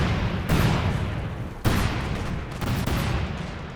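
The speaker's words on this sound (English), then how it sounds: "You see the cluster bombs coming down again." Cluster bombs falling in Company of Heroes 2, a World War II strategy game: rapid overlapping blasts and crackling detonations, with two sharp louder bursts standing out against a constant dense rumble of battle.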